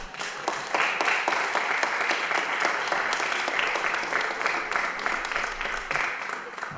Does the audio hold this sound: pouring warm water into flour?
no